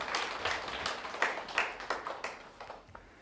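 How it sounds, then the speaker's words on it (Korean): A small audience claps together indoors in a short round of applause, a brisk burst of overlapping hand claps that thins and fades over a few seconds. "자기 자신에게 한번 박수를 한번 보내주세요"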